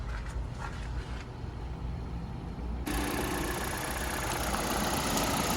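A 1.4-litre petrol car engine idles with a steady low rumble, growing a little louder and brighter partway through, with no voices.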